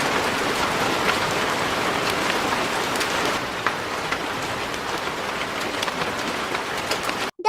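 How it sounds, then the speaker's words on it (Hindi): Heavy rain falls in a dense, continuous hiss of drops hitting the ground, loud and steady throughout before cutting off sharply at the very end. "कुछ दिनों बाद बारिश का मौसम आया।"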